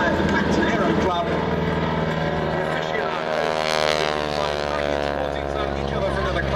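A propeller aircraft flies past at the Duxford air festival, its steady engine drone and rich harmonic whine shifting pitch as it crosses in front, loud and close, with a public-address announcer talking over it throughout.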